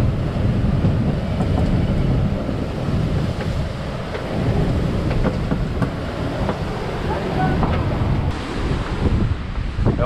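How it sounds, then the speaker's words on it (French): A sailboat plunging into ocean waves in a 45-knot gale, with a loud continuous roar of rushing water and wind buffeting the microphone, surging and easing as the hull meets each wave. "Blacky, on plonge dans les vagues là."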